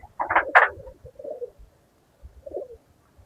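Pigeons kept in a home loft coo in two close, soft bursts, followed by lower, quieter coos after a pause.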